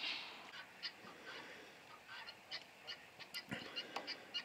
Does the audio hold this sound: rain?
no